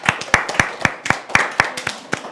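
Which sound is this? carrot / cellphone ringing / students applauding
students applauding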